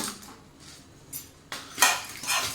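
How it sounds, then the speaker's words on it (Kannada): Coriander seeds tipped into a hot pan while cooking restaurant-style mutton ghee tawa fry: faint metallic pan clinks, then louder scattered rattling and sizzling bursts near the end, with no talking. "ಇವಾಗ ನಾವು ಧನಿಯಾ ಕಾಳನ್ನು ಹಾಕೋಣ"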